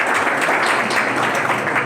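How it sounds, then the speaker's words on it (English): Steady applause from a conference audience, a dense, even wash of clapping hands holding at constant loudness throughout with no voices over it. "Man, you got a bigger round of applause than I did."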